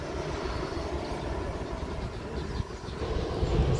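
An airplane near Sultan Hasanuddin International Airport in Makassar, preparing to land, gives a steady, fairly loud broadband engine roar that swells slightly toward the end, with no talk.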